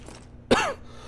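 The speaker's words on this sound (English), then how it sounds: "All of a sudden, I'm coughing like an idiot." A single short cough from a man in the action game Deus Ex, sharp and close, standing alone against quiet background noise.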